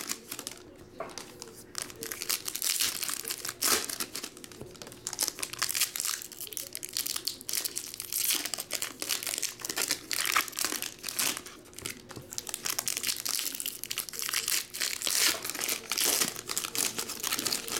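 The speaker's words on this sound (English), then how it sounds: "These packs are hard to open. They don't rip correctly." Foil wrappers on Upper Deck Series 1 NHL hockey card packs are torn and crumpled open, a dense and continuous crinkling and ripping close to the microphone that goes on steadily throughout.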